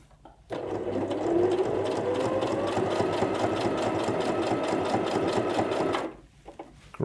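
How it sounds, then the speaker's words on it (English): A cheap domestic sewing machine run with a foot control stitches in one continuous burst of about five and a half seconds, a close, rapid mechanical whirring chatter that starts and stops abruptly. "to compare the noise and the ease of it, I'm going to go across to this one and we're going to stitch down just there and use my foot control"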